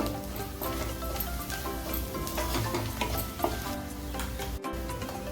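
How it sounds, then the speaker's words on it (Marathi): Besan and red chili powder being stir-fried in a pan over medium heat, a dense steady sizzle with continuous scraping and stirring throughout, fairly loud and close, no voices. "एक मोठा चमचा लाल तिखट टाकते आता हे छान परत परतवून घेऊया एक मिनिट"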